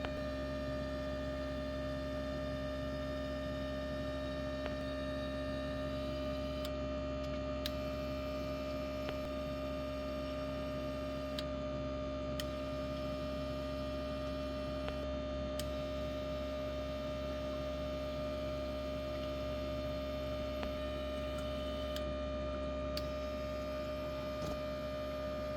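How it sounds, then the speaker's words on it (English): A fuel injector cleaning machine running a static flow test on direct injection injectors, producing a steady electrical hum with sustained tonal whine and occasional faint ticks throughout. "now we're gonna test to see if they're all even. So we have static flow right now."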